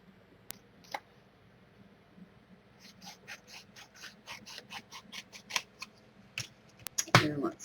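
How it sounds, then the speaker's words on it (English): Scissors snipping material for an MDF steampunk hat, a run of quiet close cuts that quickens and grows louder toward the end, with a few isolated snips earlier. "So I'm going to trim up some of this because there's a lot"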